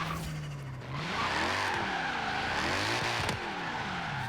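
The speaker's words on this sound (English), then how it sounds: "you can hear that turbo sounds really good on this one" A tuned 900+ hp 2011 Mercedes-Benz SLS AMG drag car in Forza Horizon 3 revs steadily. A rising and falling turbo whine sweeps over a continuous, loud engine roar, close up and without voices.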